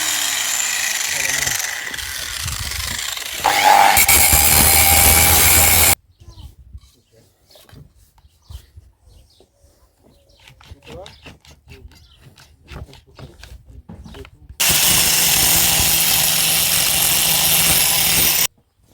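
Power drill drilling in two loud, close bursts of steady whining grind, separated by a quieter stretch of scraping and handling noises, with people talking.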